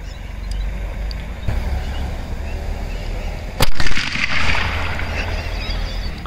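A Diwali firework pencil, lit and bursting, gives a sharp crack and a brief fizzing spray over steady outdoor background noise, with no talk.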